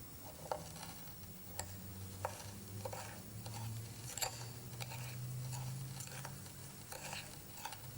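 A mixture of copper chloride, cane sugar and potassium chloride is stirred in a porcelain dish, giving soft, regular scraping taps over a quiet background hum.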